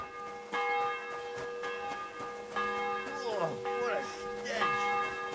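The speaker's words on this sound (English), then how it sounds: "The bell's ringing for hands the 5th time." Church bell tolling in the medieval open-world game Kingdom Come: Deliverance II, several clear resonant strikes ringing out over ambient game sound, with a voice speaking briefly alongside.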